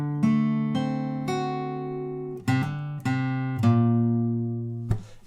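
An acoustic guitar plays the final bar of the Wayfaring Stranger chorus from The Last of Us Part II, with a handful of plucked notes ringing out cleanly and separately, ending on a last struck note.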